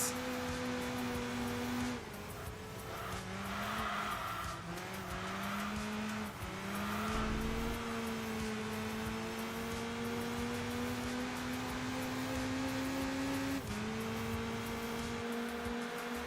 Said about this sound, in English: This is a stock Civic Type R. But holy moly, it just goes.